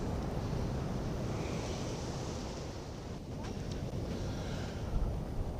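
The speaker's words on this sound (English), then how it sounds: "the waves breaking over the rocks in the background" Ocean waves break over boulders in a small natural channel on the Margaret River coast, a broad continuous roaring wash with a distant rumble, mixed with gusty wind noise on the microphone.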